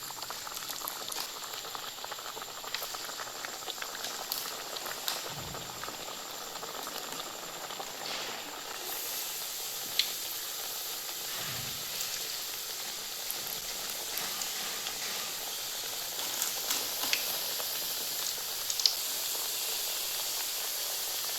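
Thattai snacks deep-fry in hot oil with a constant bubbling hiss and fizz, steady and close, with a few faint knocks and no voices, ahead of Deepavali.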